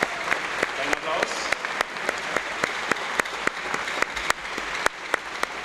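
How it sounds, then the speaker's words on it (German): Offenbach football fans give a small round of applause at the official 2019/20 training kickoff, with sparse, distinct hand claps in an uneven rhythm that carry on steadily for several seconds. "Kleiner Applaus."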